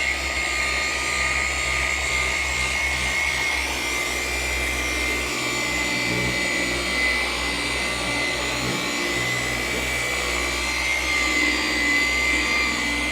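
A car polisher whirs steadily against vehicle paint during defect-removal polishing, a loud continuous motor drone with a high whine that holds without pause.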